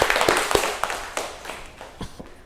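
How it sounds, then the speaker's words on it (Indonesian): Students in a classroom clap for a group's correct answer, a scattered burst of hand claps that thins out and fades over a couple of seconds, fairly close, with no talk over it. "3. Oke, benar, beri tepuk tangan."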